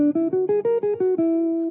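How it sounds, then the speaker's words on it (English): A guitar picks out a quick run of about eight clean single notes for an altered dominant sound over the five chord in a bebop lick, ending on a held, ringing final note. "If you're a guitar player, without even thinking about a full, we could play a sound like this."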